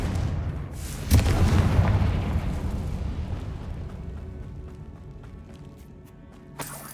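A Confringo spell detonates in the video game Hogwarts Legacy with a sudden heavy boom, a deep rumbling tail that fades over several seconds, and a smaller sharp crack right at the end.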